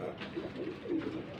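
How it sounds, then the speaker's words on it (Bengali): Desi golla pigeons coo in a low, rolling series of repeated phrases, close by and moderately loud, with no talk over them. "এই দেশি গোল্লা কবুতরটা নিতে পারবেন"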